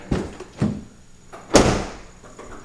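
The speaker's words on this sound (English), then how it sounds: "When you open the door" Door on a 2021 Ford Explorer ST being opened, giving a few short clunks and a sharper latch-like thump near the end, close up with no talking.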